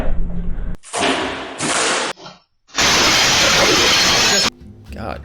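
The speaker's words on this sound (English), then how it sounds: "could you have picked a more obviously fake shattering sound effect?" Fake sound effect of a mug shattering, loud bright crashes in separate bursts with a long hissy burst of breaking, short quiet gaps between them.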